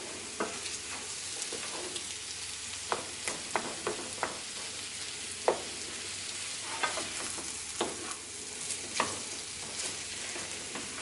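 Samosa filling being mashed and stirred in a pan on the stove, with scattered scraping and tapping knocks over a steady low sizzle, close and fairly quiet, no talking.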